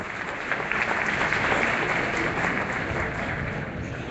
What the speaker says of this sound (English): Give him applause. An applause, please.